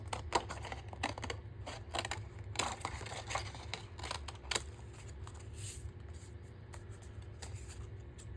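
Scissors cut a book page at an angle while a new journal is assembled, giving a series of close, crisp snips and rustles in an irregular rhythm with no talking.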